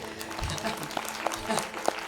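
A congregation claps together in a church hall during a revival meeting in Bhubaneswar. The applause is short and close, mixed with a preacher's voice talking over it.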